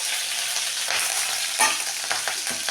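Chana dal and green chillies frying in sesame oil, a steady crackling sizzle broken by a few scraping stirs, close and fairly loud with no talk.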